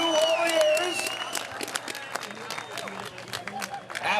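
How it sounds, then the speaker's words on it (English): A crowd at a King of the Cage wrestling event applauds after a three-round bout, scattered claps and cheers rising and falling over an amplified voice. "how about a round of applause for a great 3-round bout tonight"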